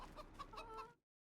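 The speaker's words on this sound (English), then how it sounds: "Hello, chicken." A chicken in the Farming Simulator 25 farming game gives a short run of clucks and murmurs, close and clear, then cuts off abruptly to silence.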